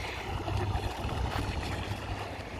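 A small electric boat runs fast across the water, a steady close whirring motor drone mixed with splashing hull noise, continuous and fairly loud with no voices.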